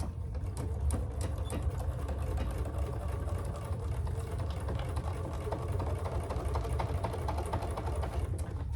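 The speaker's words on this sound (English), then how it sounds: "Let's sew that all the way around." A sewing machine runs steadily, stitching around the edge of a fabric divided basket, its fast even mechanical whir unbroken and close throughout.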